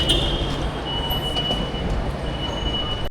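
Station ambience at London's Victoria Station while waiting for a train, with a steady broad rumble of rail noise and a faint high tonal whine held throughout, fairly loud and continuous with no talk.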